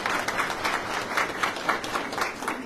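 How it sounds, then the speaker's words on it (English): Steady audience applause at a Women's Empowerment Center first-anniversary celebration, many hands clapping together at a moderate level with no voices standing out. "let's give them a round of applause."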